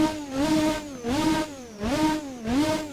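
A 1988 McLaren MP4/4 Formula One engine in the racing game Assetto Corsa revs repeatedly in a steady rising-and-falling pattern, loud and close, with no voices.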